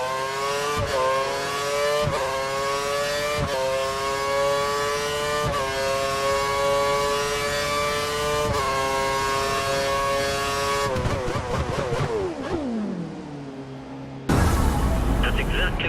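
A Formula 1 car engine in the F1 2013 video game, on a soaked wet track, holds a loud, sustained high-revving whine. Near the end, gear changes make the pitch rise and fall before a sudden louder burst.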